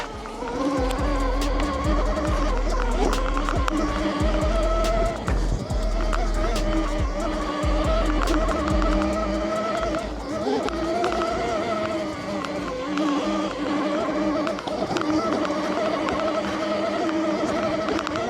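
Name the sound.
REXX T01 72V electric bike climbing an off-road hill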